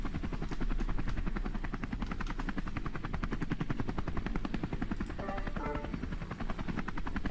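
A loud helicopter thrums with fast, steady rotor chop throughout, close and dominant.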